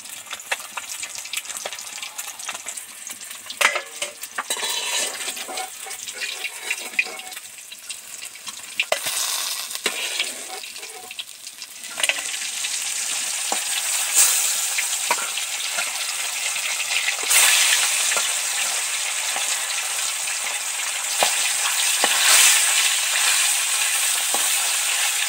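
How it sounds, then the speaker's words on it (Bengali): Fish heads deep frying in hot oil give a steady, bright sizzle with crackling pops, growing louder and denser partway through and continuing without speech. "মাছের মাথাগুলো তো সব ডিপ ফ্রাই করে ভেজে নিলাম"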